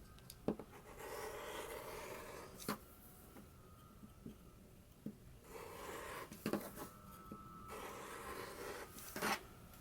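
Fabric seam allowance trimmed to 3/8 inch while sewing a McCall's 7330 jumpsuit: faint, close crisp snips and soft rubbing in short stretches, with quiet gaps between, against a low room hiss.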